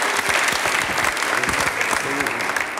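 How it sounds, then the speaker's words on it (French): A comedy show crowd applauding steadily with dense clapping throughout, while a voice speaks over it. "on peut les applaudir tous les deux. Bravo."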